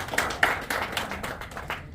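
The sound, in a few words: audience applause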